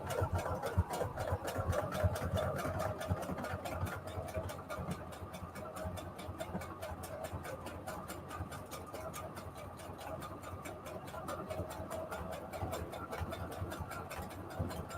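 A sewing machine runs a scallop stitch across index-card tags, giving a steady, fast mechanical whir with rapid stitch ticks that continues throughout at moderate level, without talk.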